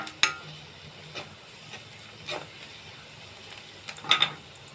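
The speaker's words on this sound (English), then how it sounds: "As you can see, I am frying these onion slices" Onion slices frying in oil for a broken-wheat daliya, a faint low sizzle with a few sharp clicks and scrapes of stirring against the pan, no talk.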